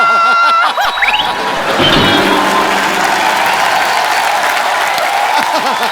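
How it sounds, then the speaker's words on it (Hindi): A studio audience on The Kapil Sharma Show bursts into loud, sustained applause for John and Sonakshi, steady dense clapping mixed with cheers and some laughter throughout. "जॉन और सोनाक्षी के लिए जोरदार तालियां।"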